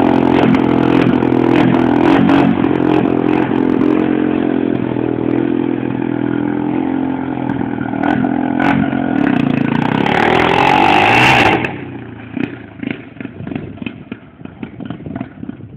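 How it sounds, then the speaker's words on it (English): A modified 70cc engine runs with its muffler removed, a loud, raw, rattly buzz revving up and down close by, then cutting back to a rough, sputtering idle as it runs out of gas. "I'm gonna start it up for you. Oh yeah, and we still have the muffler off."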